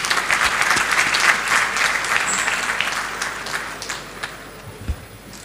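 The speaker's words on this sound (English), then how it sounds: "Let us give him another round of applause" An audience at a university congregation ceremony gives a round of applause, loud and sustained at first, then thinning and tapering off toward the end, with a few scattered late claps.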